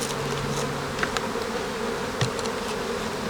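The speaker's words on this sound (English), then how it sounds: "I'm gonna take some nurse bee and shake them in the split." Honey bees buzz steadily and close during a hive split, a dense continuous drone with a few brief louder passes of individual bees flying near.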